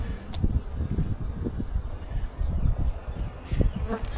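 A close, continuous drone of honey bees fills the air during a beehive inspection in early spring, fluctuating in intensity with a few brief higher buzzes passing near.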